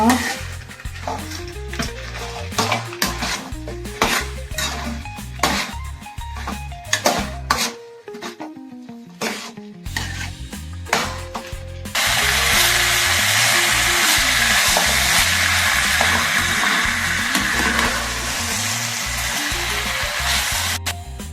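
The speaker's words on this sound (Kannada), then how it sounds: "ಇವಾಗ ನಾನು ಚಿಕನ್ ಹಾಕ್ಕೊತಾ ಇದ್ದೀನಿ." Loud, steady sizzling of food frying in a pan, with scraping and stirring throughout; the frying grows louder and more continuous in the second half.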